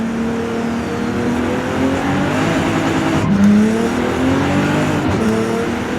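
A stock, factory-standard Nissan GT-R R35 revs loudly and close by, its engine note climbing and falling through several throttle blips with a sustained harsh roar and no voices.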